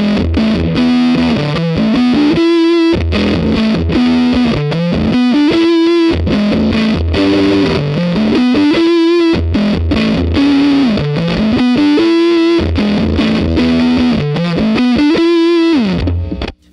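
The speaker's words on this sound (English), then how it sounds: "So this is like basically the craziest sound the broadcast can get." A Hudson Electronics Broadcast preamp pedal with gain and level cranked to maximum gives heavily distorted, saturated electric guitar: a repeating riff of sliding bends, loud and dense from start to finish, with no talking.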